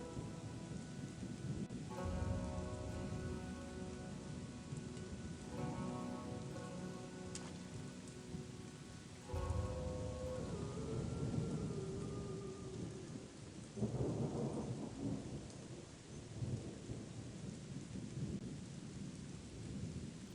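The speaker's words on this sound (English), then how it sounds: "I really wish the rain would stop." Steady rain pours in the game Chronicles of Myrtana: Archolos while thunder rumbles in long rolling bursts, with a louder crack partway through, and no talking.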